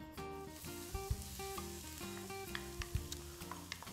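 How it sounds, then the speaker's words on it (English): Onion frying in hot oil in a pan, giving a steady close sizzle with a few sharper pops and spatters as the pieces settle. "Okay, the oil is hot. Be careful, please go slow. I'm gonna cook the onion now."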